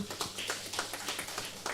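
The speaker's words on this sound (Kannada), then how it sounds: "ಜೋರಾದ ಚಪ್ಪಾಳೆ ಬರಲಿ" Audience applause greeting a singer walking on stage at a musical tribute concert: a steady wash of many hands clapping, moderately loud and continuous with no voices over it.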